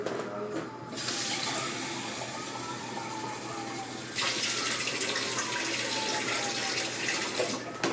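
Water pours steadily into a pot of lasagna soup with chicken broth, a continuous splashing rush that briefly pauses, then resumes louder and fuller until the end.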